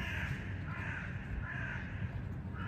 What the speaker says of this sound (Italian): Questi sono i corvi che a lei piacevano,